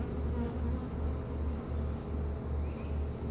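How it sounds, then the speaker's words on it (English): Honeybees buzz in a steady, dense drone close by during a hive removal in Lake Hollingsworth, Florida, with no talking. "I was looking for a cluster of bees other places than their original location."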